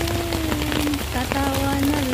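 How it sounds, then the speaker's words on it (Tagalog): Heavy rain pours onto surfaces in a dense, continuous patter with scattered louder drop hits, while a voice hums or sings a sustained tone over it nearby. "Ang lakas ng ulan."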